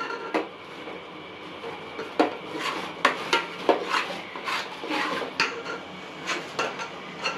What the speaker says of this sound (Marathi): आपण थोडं हलवायचं काम करूया